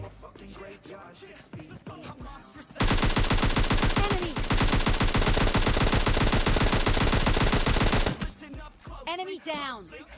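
A long loud burst of rapid automatic gunfire from PUBG Mobile Lite runs for about five seconds, fast and evenly spaced, with a voice talking before and after the shooting.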